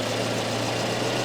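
A Volvo 244 engine idles steadily during a tune-up, giving a continuous, even mechanical drone with a faint vibrating hum, heard up close and alone.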